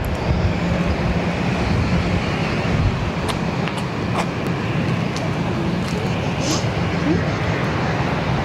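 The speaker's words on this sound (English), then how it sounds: "now ITA, 3-year-old A320 Neo returning to Rome Fiumicino" An ITA Airways Airbus A320neo, three years old, departing Barcelona airport for Rome Fiumicino, its engines a sustained broad roar heard from a distance, with a voice talking over it.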